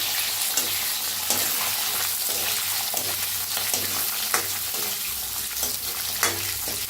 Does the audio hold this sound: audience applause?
no